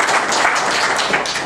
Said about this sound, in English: Let's hear a round of applause for Steve Silberman.